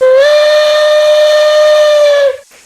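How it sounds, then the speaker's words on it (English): A single loud steam whistle blows steadily for over two seconds with a rich, harmonic tone, then cuts off abruptly. "So hear that whistle?"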